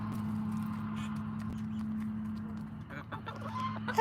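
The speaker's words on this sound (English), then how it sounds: "You're probably some of the most spoiled girls I know, except for Prince Harry and Meghan Markle's chickens." Chickens in a backyard flock cluck steadily at close range, with occasional sharper calls over a constant low hum.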